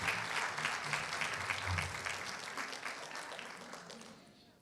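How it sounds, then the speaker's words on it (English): An audience applauds young performers at a South African youth program launch, a fairly quiet but dense burst of clapping with some crowd murmur that gradually tapers off. "I think we can give them a round of applause."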